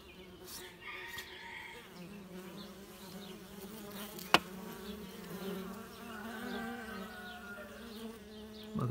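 Native honeybees swarm at a hive entrance, a dense steady buzzing drone that hums throughout, with one sharp click midway.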